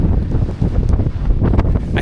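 Strong gusts roar and buffet the microphone on a Lake District hilltop. The rumble is loud and continuous, with no talk.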